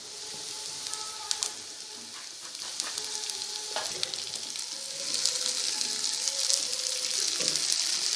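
Green chillies and chopped tomato sizzle and fry steadily in a hot pan while being stirred, with a continuous crackling hiss that grows slightly louder partway through and occasional scraping clinks of the spoon.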